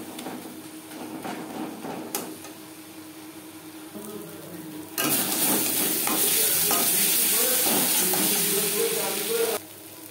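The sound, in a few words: stir-frying salt, turmeric, spices with onion and tomato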